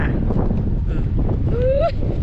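Wind off the sea buffets the microphone outdoors on the shore at rising tide, a loud, constant low rumble with a brief whistling tone near the end.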